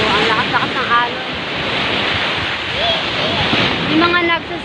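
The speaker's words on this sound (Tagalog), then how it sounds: "So, ang lakas-lakas ng alon." Strong ocean waves surge and crash at a beach in Japan, a loud continuous wash of surf with wind buffeting the microphone, as a person talks over it.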